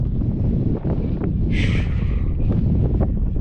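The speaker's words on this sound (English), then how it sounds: "It's chilly, and the wind is what's a big factor." A strong, chilly wind on the West Coast buffets the microphone with a loud continuous rumble and gusty roar, with a brief higher whistling rush partway through and no voices.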